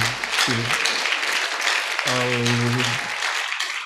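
A church congregation applauds and cheers during a sermon, dense clapping from a crowded room filling the space, with a voice calling out over it briefly.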